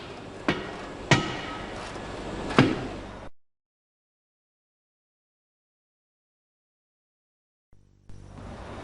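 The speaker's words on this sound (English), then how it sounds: "This is a dead blow hammer." A dead blow hammer strikes three dull, thudding blows in the first few seconds, then silence, followed by a faint return of background noise.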